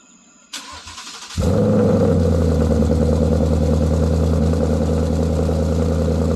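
A 2020 Mustang GT engine with SVE aftermarket mufflers and H-pipe cranks and starts, then settles into a loud, steady, deep idle with a low rumble that continues without a break.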